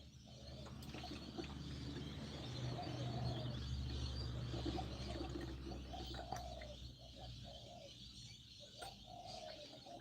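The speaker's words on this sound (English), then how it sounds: "Check the birds out." Outdoor birds, probably pigeons or doves, coo softly in repeated low calls over a steady background hum, distant and faint, with no one speaking.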